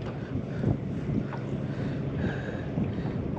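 Wind gusting over the Brisbane River, a steady broadband rush with buffeting against the microphone and faint water movement, no voices.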